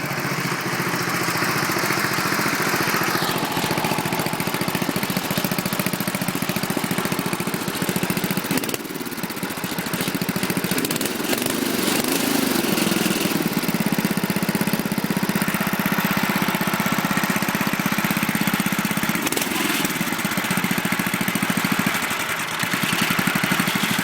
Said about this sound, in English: Not bad for about a 43-year-old engine.